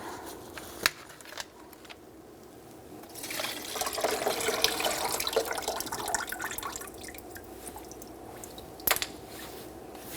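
Coolant glugs and splashes into a container as it is dumped from the coolant reservoir of a 2002-2006 Honda CR-V, a steady liquid pour lasting several seconds and framed by a few sharp clicks and knocks.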